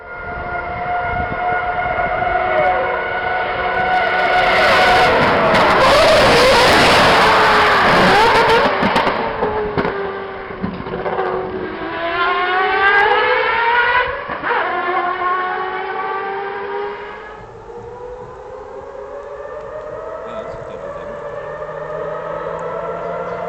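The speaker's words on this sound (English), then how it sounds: "Let's take a listen of the 787B blasting down the Mulsanne straights." A 1991 Mazda 787B race car howls past on the Mulsanne straight, its high-revving engine rising to a loud, dense roar as it nears, then climbing through gear changes before fading into the distance.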